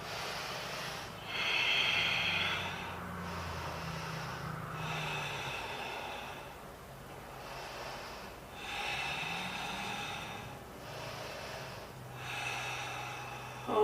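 Deep breaths during a yoga twisting practice, several slow audible breaths close up, each a soft airy rush in and out with pauses between, repeating at an even pace with no talk.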